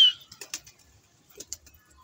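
Several soft coos and faint fluttery sounds from a pigeon panting in the heat come in short bursts, close by, separated by brief quiet gaps.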